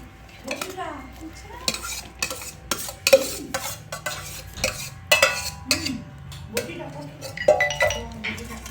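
Boiled potato chaat being mixed by hand with spices and tamarind in a metal bowl: irregular clinks and scrapes of utensils against the dish, with soft stirring between, under occasional talk.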